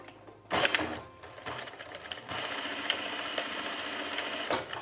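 Sewing machine stitching through two overlapped elastic ends on a skirt-culotte waistband, a short start then a steady close mechanical whir of needle strokes running to the end, with no voices.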